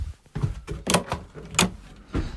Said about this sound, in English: That's my door.